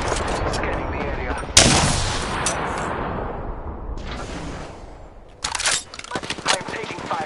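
Gunfire in the Apex Legends battle royale, a sharp crack of shots followed by sustained bursts and a later flurry of rapid reports, heard over game ambience and brief voice callouts.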